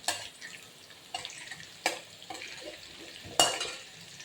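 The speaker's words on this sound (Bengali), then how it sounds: "আমি আলু ভাজার ভিতরে আলুটাকে একটু ভাজবো, সামান্য লবণ দিয়ে দেবো" Potatoes frying in oil in a pan with a little salt, a soft sizzle under sharp clinks of a spatula stirring against the metal, several distinct scrapes spaced a second or so apart.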